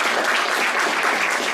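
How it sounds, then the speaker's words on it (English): An audience at a rabbinic panel discussion gives a round of thanks, a thick, even wash of many hands clapping close by that continues steadily without any talk. "with a round of applause"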